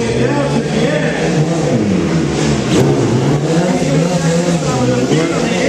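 A big BMW motorcycle revs hard during a stunt show in New York, the engine note rising and falling loudly and steadily throughout, with crowd noise and an announcer's voice mixed underneath.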